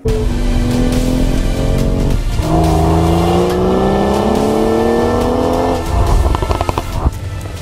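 A 2018 BMW X3 SUV being driven, its engine note rising and shifting through gears with a loud, close drone and some tyre noise over road roar.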